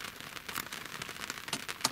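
Light rain patters on a boat's hard surface nearby, quiet and steady, with a few sharper drops ticking through.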